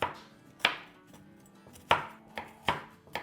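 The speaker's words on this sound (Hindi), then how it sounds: "तो थोड़ा सा काट लेंगे इस वक्त और थोड़ा सा टॉपिंग के लिए रखेंगे।" Vegetables being chopped with a knife on a board for vegetable pancakes, a few sharp, separate knife strikes at an uneven pace, close and clear, with no talking.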